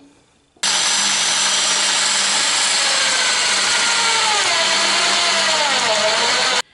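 A power drill bores holes through a wooden ruler used to mount interior trim in a Citroën Traction 11B. After a short quiet start, a loud, steady, close-up whir runs unbroken for about six seconds.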